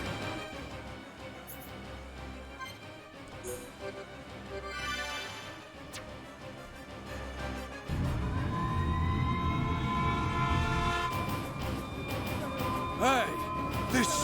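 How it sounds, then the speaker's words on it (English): A siren in the video game Xenoblade Chronicles: Definitive Edition rises and wails over game music and sound effects, louder and denser in the second half, with a rising tone sweeping upward. "Hey, this siren. It sounds different."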